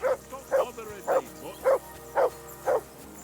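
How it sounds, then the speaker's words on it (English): A dog in the video game Kingdom Come Deliverance II barks six times at a steady, evenly spaced rhythm. The barks are moderately close and sit over a faint background hum. "That dog is going crazy. Why are you barking?"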